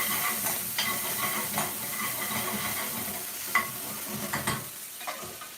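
Ginger garlic paste sizzles in a warm pan with a constant frying hiss, broken by repeated scraping stirs of a utensil. It is close, with no talk.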